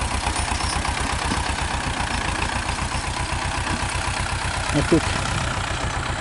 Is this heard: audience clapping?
no